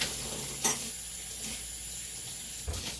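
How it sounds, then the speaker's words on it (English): Tap water runs steadily with a soft, even hiss while a paring knife is washed in a kitchen sink, with a couple of brief clinks near the start and the end. "Just washing my paring knife."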